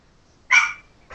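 Puppies in the video game Mount & Blade let out one sharp, close bark followed by a shorter, softer yip.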